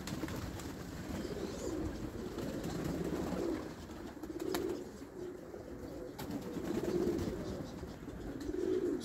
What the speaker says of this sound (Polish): Teraz to się kąpią te gołębie z gołębnika tego, co nie były dzisiaj wypuszczone